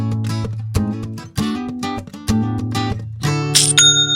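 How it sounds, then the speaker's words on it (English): A Shopify sale notification chime, a bright run of ringing tonal dings and plucked notes rising in clusters, loud and close, ending on a sustained high chiming tone, with no voices. "That's the sound of another sale on Shopify"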